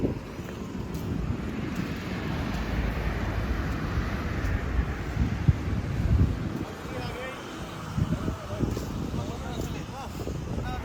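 Cool outdoor wind at a roadside fuel pump stop buffets the microphone with a low, rumbling gusty roar. Someone talks steadily over it.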